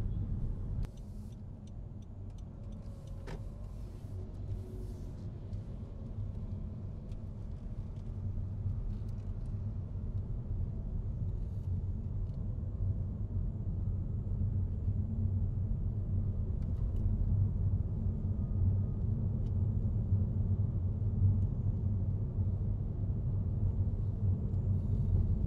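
Steady low rumble of road noise inside a moving Honda Civic Turbo, constant and enveloping, with faint engine hum and no talking.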